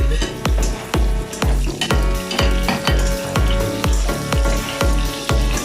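Potatoes for duck caldereta fry golden brown in a pan, giving a loud, steady sizzle broken by regular rhythmic knocks of stirring or tossing, close up with no voices.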